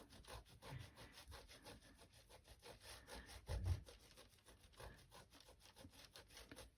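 A wet sponge rubbed across watercolor paper, giving a rapid, even rasping scrub in repeated strokes, close and fairly quiet, with no talk.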